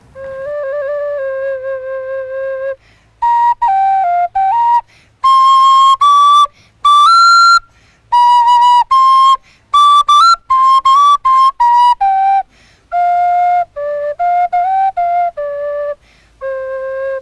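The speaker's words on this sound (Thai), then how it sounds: "พี่ได้ยินเสียงขลุ่ยที่น้องอาร์มเป่า" A breathy Thai bamboo flute plays a melody of sustained and quick notes in separated phrases, clear and close, with no voices.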